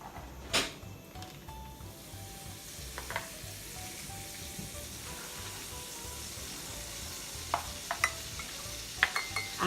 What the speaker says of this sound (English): So I have my skillet over medium heat. I'm going to add 1 stick of soft butter.